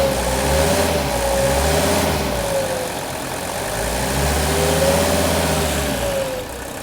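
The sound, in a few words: Mercedes W116 300SD diesel engine running and accelerating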